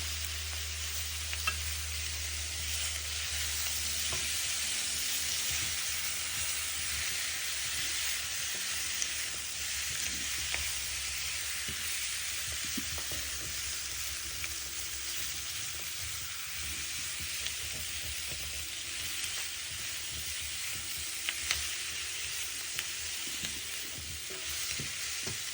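Pork pepper fry sizzling and being stirred in a pan over a medium flame, a steady close hiss broken by frequent scraping and tapping stir sounds, running continuously for about twenty-five seconds with no talking.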